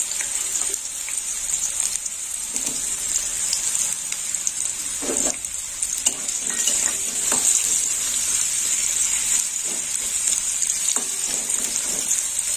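Long-cut potato pieces frying in hot oil in a pan for mourala fish sukto, a loud steady hiss with occasional scrapes and stirs close by, no talking.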